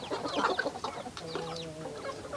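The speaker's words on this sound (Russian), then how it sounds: "И очень хорошо пьют куры." Chickens clucking near a drinker, several short, soft clucks and chirps in an irregular rhythm, close by and moderately quiet, with no speech.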